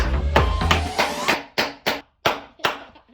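Sharp hammer blows strike wood while bunk beds are taken apart in a cottage bedroom. Several quick strikes come first, then four slower, louder, isolated blows with short ringing decays.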